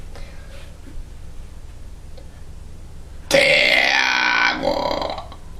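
A person lets out one long, loud, deep burp after a stretch of quiet room noise. It is close and rough, lasting over a second before it trails off.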